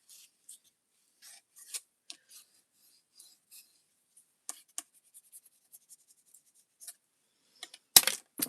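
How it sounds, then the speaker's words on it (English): Paper corners are clipped off for a scrapbook album, heard as a series of faint, sharp snips and small scraping sounds scattered over quiet, with a louder clip near the end. "And now I clip off the corners."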